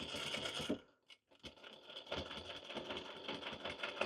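Sewing machine running a second pass of stitching on a Halloween ghost pillow, a close steady mechanical whir that stops briefly and then starts again and keeps going.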